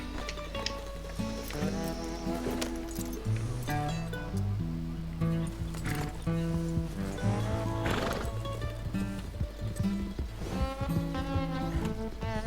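A horse whinnies several times amid clip-clopping hooves in the video game Red Dead Redemption, set over a steady musical background.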